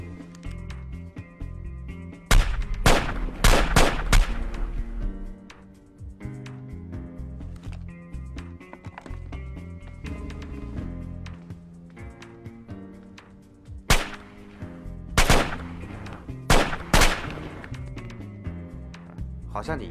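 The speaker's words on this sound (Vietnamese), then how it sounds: "3 phát súng." Sharp gunshots ring out in a gangster film scene, a quick cluster of three or four loud cracks early on and another burst of several shots later, set over background film sound.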